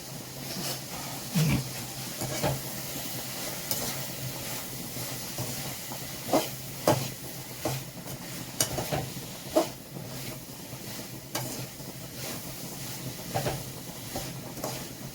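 Prawn curry is stirred in a pan with a soft bubbling sizzle and intermittent scrapes and clanks of a spoon against the metal, close up and irregular.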